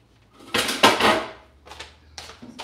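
A cutting board is shifted and cinnamon rolls dished up in a kitchen: a few close wooden and dish knocks and scrapes in short bursts.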